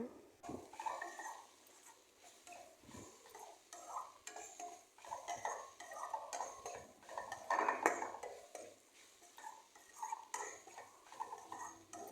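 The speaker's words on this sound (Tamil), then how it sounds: "இப்போ தக்காளி சேர்த்துக்கோங்க நல்லா குழைய வேகணும் நல்லா வதக்குங்க" Tomatoes are sautéed and stirred in a pan for tomato chutney. Soft, repeated scraping and clinking of a spoon against the pan continues throughout, with a faint sizzle underneath and no talking.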